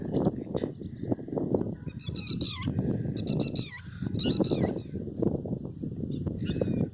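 Several honking, goose-like bird calls ring out in bursts over a constant low rumbling background in a rain-soaked paddy field.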